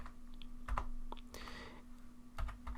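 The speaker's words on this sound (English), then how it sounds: "I'm gonna type ifconfig" Quick keystrokes on a computer keyboard as a networking command is typed, a short burst of soft clicks followed by a couple more taps, close and fairly quiet over a steady hum.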